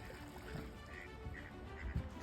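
Wild ducks on a river quack faintly in the distance at dawn, a few soft calls over a steady outdoor hush with light water sounds.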